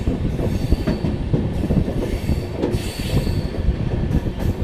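A train rolls through Guwahati station with a diesel locomotive, its wheels squealing and clattering over the rails in a steady, close, rumbling wash of noise with no voices.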